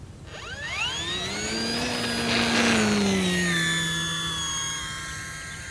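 E-flite Timber 1.5m RC airplane in flight: an electric motor whine swells as it passes overhead, holding loud for a few seconds, then sliding lower in pitch as it fades away.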